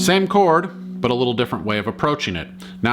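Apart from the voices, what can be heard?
No everyday noises stand out.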